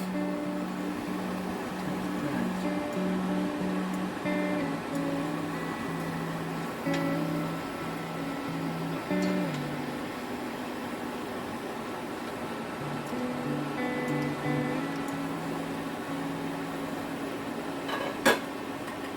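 Chicken wings simmer in Coca-Cola with star anise in a covered pan, a steady, even low bubbling hiss with a faint humming drone, continuous throughout and without talk.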